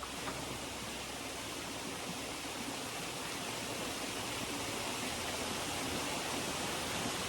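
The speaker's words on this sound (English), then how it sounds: "And below there is waterfalls" A waterfall rushes beneath a bouncing swinging bridge in the woods, a steady, dense roar of falling water with no pauses.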